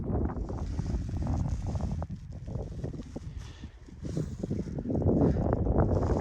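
Wind gusting over a kayak on Lake Murray, rushing and buffeting the microphone with faint water movement underneath, easing briefly before building again.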